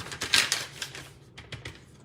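A paintbrush loaded with blue paint is tapped against scrap paper while an Easter card is being made, giving several light, sharp taps in an uneven rhythm, close and fairly crisp.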